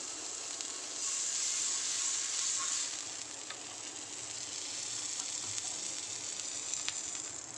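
A corn paneer sandwich toasting in butter in a pan gives off a steady, close sizzle and bright hiss, loudest early on, then settling into a softer continuous fry with a few faint ticks.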